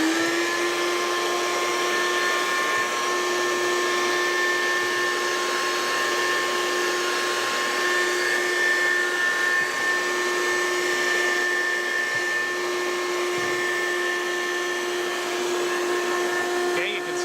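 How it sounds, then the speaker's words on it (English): The vacuum motor of a pelletized seed sowing machine drones loudly and steadily nearby, a constant whining hum with a sharp tonal pitch that holds unchanged from start to finish. "The motor from the vacuum is kind of loud"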